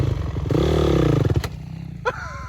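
A 450 WR dirt bike engine revs up close and loud, its pitch swelling and then dropping away, followed by a quieter idle with a brief sharp burst near the end.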